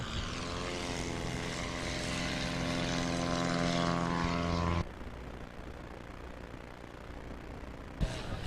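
A Cessna 182 flying a STOL demonstration at an airshow, its propeller engine droning loud and steady with a strong harmonic whine, then dropping away abruptly to a softer, distant rumble.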